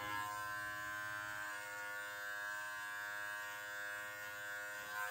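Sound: electric beard trimmer with 1 millimeter guard trimming beard

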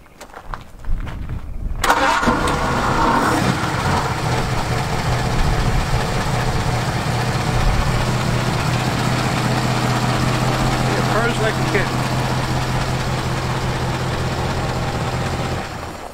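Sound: hot rod car engine starting and idling

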